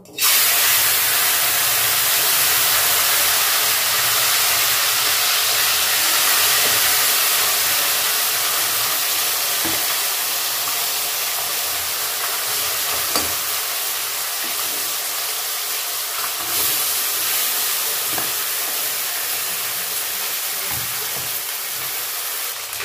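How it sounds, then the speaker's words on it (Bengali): Small chuno mourola fish frying in hot oil in a wok, a loud, steady broadband sizzle that holds evenly throughout with faint crackles and no talk. "এবার আমি মাছগুলো ছেড়ে দেবো"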